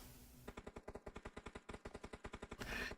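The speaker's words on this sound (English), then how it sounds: "We can hear gunfire all around." Automatic gunfire in the battle-royale game PUBG: a quick run of about twenty evenly spaced shots in roughly two seconds, ending in a louder, noisier burst. The whole exchange is fairly quiet, as if at a distance.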